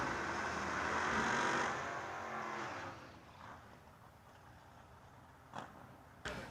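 Drag racing cars roar down a dragstrip at a summer fling event, a loud broad engine blast that fades away into the distance, followed by two brief sharper bursts near the end.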